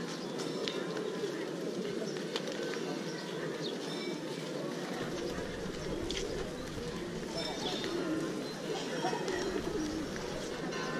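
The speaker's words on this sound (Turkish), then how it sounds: "Evet, meydanda güvercinler," Pigeons coo in the busy square at Boudhanath stupa in Kathmandu, their calls mixed into a dense, steady crowd ambience with faint voices.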